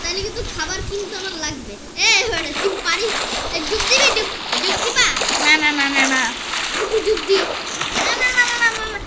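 Water splashes as a player character dives in, in a multiplayer crafting and building game, with repeated splashy bursts over steady children's chatter throughout.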